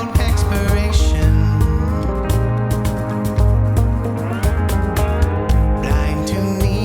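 Mastered folk song plays back loud and full, a sung vocal over dense acoustic instruments with steady strummed attack and rich low end throughout.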